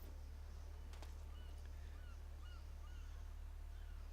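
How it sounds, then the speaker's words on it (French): Seagulls calling faintly in the distance over a sandy beach landscape, a few short cries spread across the clip above a loud, constant low hum. "On entend le bruit des mouettes."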